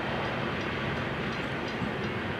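A Florida East Coast Railway freight train of about 35 cars rolls past heading north on the main line, a steady near rumble and rattle of the cars passing throughout.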